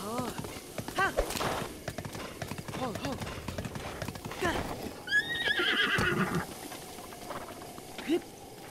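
In The Legend of Zelda: Breath of the Wild, a horse whinnies and snorts several times while its hooves clip-clop steadily nearby, with a voice talking over it.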